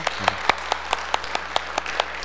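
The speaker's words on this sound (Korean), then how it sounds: "먼저 박수." Sparse, evenly spaced claps from a church congregation during a worship service, faint and distant, with a steady rhythm and no one speaking.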